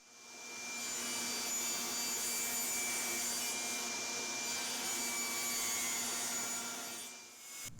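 A table saw rips wooden boards to width for a woodworking mallet, a loud, sustained whine and rasp of the blade through wood that swells in, holds steady for several seconds, then tapers off.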